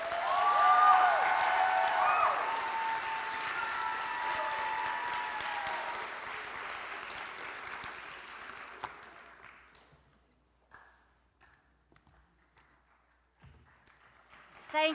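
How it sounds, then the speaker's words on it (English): Sustained applause from the audience honoring faculty at a college opening convocation, loud and dense at first, then thinning out and fading to near silence after about nine seconds. "Can I get one last round of applause for all of our exceptional faculty?"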